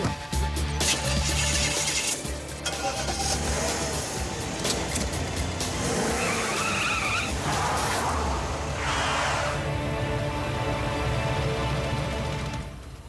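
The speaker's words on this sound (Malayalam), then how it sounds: "വാ മോട്ടു, നമുക്ക് കാറ് ട്രാക്കിന്റെ മുകളിൽ കൂടി ഓടിക്കാം." Cartoon car driving along a railway track and skidding, an engine roar with screeching tyre skids running continuously and loud throughout, with music and effects layered over it.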